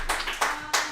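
A few quick, separate handclaps from a small group during a live football broadcast at Avicolli's, about three short bursts, moderately close and fairly quiet.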